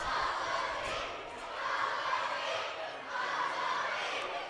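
Elementary students in the stands at a boys basketball game chant and cheer in rhythmic swells, a loud crowd roar that rises and falls in waves.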